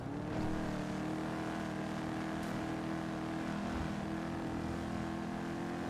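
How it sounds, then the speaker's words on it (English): A car on a road rolls off from a stop, its low engine drone steady and moderate, heard from a distance through a constant wash of traffic-like noise. "Why is that car stopped in the middle of the road and why is it moving now?"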